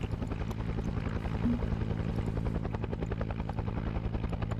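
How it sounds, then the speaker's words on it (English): Helicopter flying in a Vietnam-era military video game, a loud continuous rotor chop with a steady pulsing beat and engine drone, close and unbroken throughout. "Why are you still making chopper sounds?"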